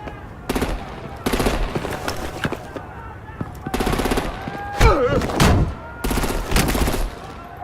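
Bursts of automatic gunfire in the Telltale's Batman video game, several rapid volleys in clusters separated by short gaps, loud and close, with game dialogue and effects mixed in.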